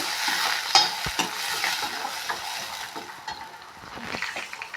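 Onions with a little salt fry in a pan for samosa filling, a steady sizzle broken by repeated spatula stirs and scrapes, with one sharper clink early on.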